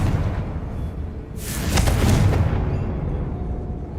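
A Confringo fire spell blasts in Hogwarts Legacy during a fight with an angry troll, a single loud burst of broadband fiery noise swelling over a rumbling low-end game backdrop.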